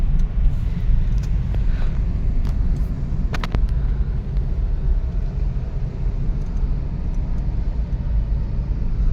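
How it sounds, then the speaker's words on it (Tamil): Heavy road traffic on Hosur Road between Bangalore and Hosur: a dense, steady low rumble of many vehicles, continuous throughout, with a few faint higher-pitched engine notes and no talking. "பயங்கர டிராஃபிக்கு."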